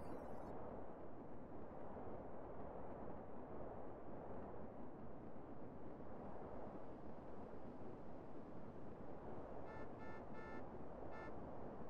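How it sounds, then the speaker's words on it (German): Steady roaring rumble of explosions in GTA San Andreas fills the scene, a continuous loud wash with brief faint tonal beeps near the end and no talking. "Gucken den Explosionen zu."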